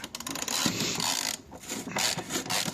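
Metallic ratcheting and grinding of a wrench working loose a stubborn bolt on a Kia Cerato, close up, with brief pauses between bursts of turning.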